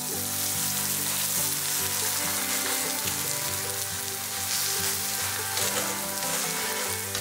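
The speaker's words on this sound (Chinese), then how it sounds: "在饼的另一面撒上少许的油，翻过来接着烙，2面烙至金黄就做好了" A scallion flatbread pan-fries in oil with a dense, steady sizzle and crackle that continues evenly throughout.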